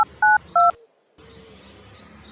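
DTMF tones of a telephone number being dialed on a phone, three short clear beeps in quick succession, followed by a brief quiet gap and then faint background murmur.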